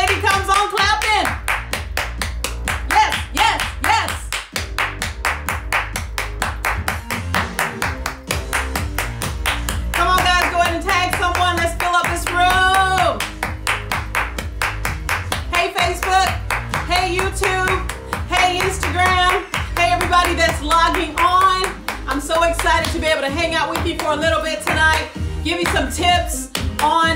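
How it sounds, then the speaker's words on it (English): A woman claps her hands in a steady, sharp rhythm against upbeat background music, the crisp claps repeating throughout as she comes on at a personal development talk. "every time I come on, I start clapping"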